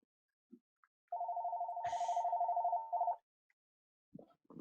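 A telephone rings once in a long, warbling electronic trill with a brief break near the end, surrounded by quiet, faint background noises.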